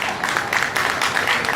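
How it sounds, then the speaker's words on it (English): A county fair show audience applauding, a dense steady burst of clapping throughout, close and fairly loud. "Give them all a big round of applause"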